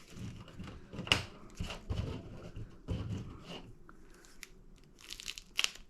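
Cutting out the plastic elevator parts for a BlitzRCWorks Mini F-86 model airplane kit, irregular close crinkling, tearing and snipping sounds in short bursts, with no talking.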